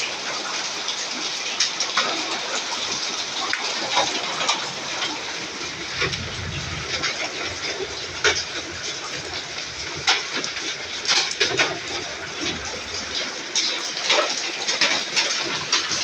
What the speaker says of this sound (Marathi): पत्रा फुटल्यामुळे ह्याचं पाणी आत पडालं